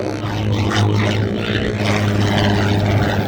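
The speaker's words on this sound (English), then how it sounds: "So we've got the Spitfire coming in." A Spitfire flies in to land at East Midlands Airport, its piston engine giving a loud, steady propeller drone with a strong low hum that holds throughout.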